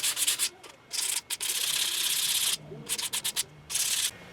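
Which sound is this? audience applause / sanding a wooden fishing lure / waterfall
sanding a wooden fishing lure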